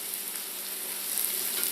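Carrots and broccoli sauté in a pot over medium heat, a close, steady sizzle that stays even throughout.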